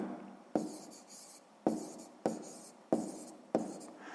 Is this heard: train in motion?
no